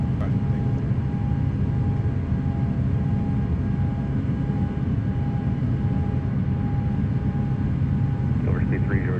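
A Challenger 300 business jet roars steadily at takeoff power on departure from SNA, a loud continuous engine drone with a faint whine heard from inside the cockpit.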